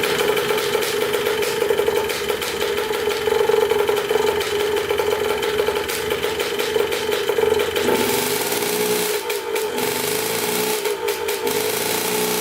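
A Suzuki RM 125 two-stroke dirt bike that sat for 15 years runs steadily near and loud, its engine drone filling the whole stretch before the note shifts and stutters with brief dips toward the end.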